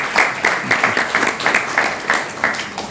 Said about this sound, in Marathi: त्यांच्यासाठी पण एकदा जोरदार टाळ्या होत्या